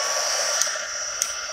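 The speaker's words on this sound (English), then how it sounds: "we're going to take our heating tool. It's going to get a little loud, but it'll be quick" A Stampin' Up craft heating tool blows hot air with a loud, steady hairdryer-like whoosh, close and continuous, with no speech.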